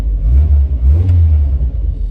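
A Rover 45 car engine revs steadily with a deep, loud rumble, the pitch rising and holding in a sustained throttle blip; no speech.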